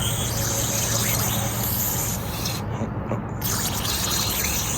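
A steady, close hiss of aerosol cleaner sprayed into a 2010 Toyota Corolla mass air flow sensor runs almost without pause, briefly thinning once before continuing strongly to the end.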